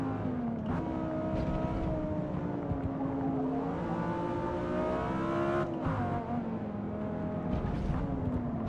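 A twin-turbo V8 BMW M6 in a racing video game drones steadily throughout, with engine tones rising and falling as it revs and shifts, loud and continuous with no voices over it.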